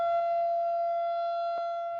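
A tornado warning siren during a monthly test near Jones Valley Elementary School holds one sustained, droning pitch, sounding loud and unbroken from start to finish.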